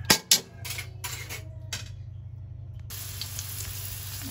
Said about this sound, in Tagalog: Iginisa ko na yung sibuyas, kamatis, bawang, luya.